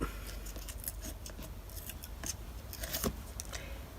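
Paper being ripped up for an altered book craft project, a series of close, quiet crisp tearing and rustling bursts scattered across a few seconds, with one sharper rip near the end.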